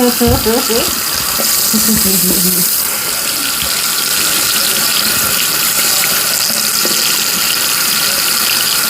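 Shower water running in a home bathroom, a loud steady hiss and splash that continues unbroken for the whole stretch, with brief faint mechanical squeaks from the fixture near the start.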